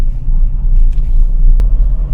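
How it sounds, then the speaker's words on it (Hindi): A car engine drops to a lower gear while slowing for an upcoming turn, giving a steady close-up low rumble with slight swells in revving and no talking. "अब मैं डाउन शिफ्ट करूंगा क्योंकि मोड़ आ रहा है"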